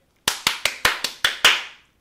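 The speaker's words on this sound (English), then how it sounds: "give him a round of applause" Seven sharp, separate claps ring out in an uneven rhythm over about two seconds, close and crisp with brief decays, from a single pair of hands rather than a crowd.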